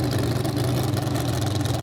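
Anthony Marsh's dragster with a normally aspirated engine runs loud and near, a dense, steady, pulsing roar that holds throughout before cutting off abruptly at the end.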